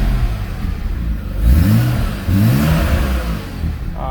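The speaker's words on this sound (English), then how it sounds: "Again, the engine runs very nicely." A 1990 BMW Alpina B10 Biturbo engine runs cold and is revved twice, a loud close idle that swells into two short rising revs before settling back, with no talking.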